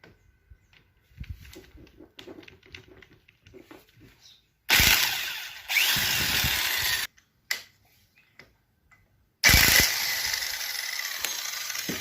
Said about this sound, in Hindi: इसके ड्राइव एंड साइड के सारे नट बोल्ट खोल लिए।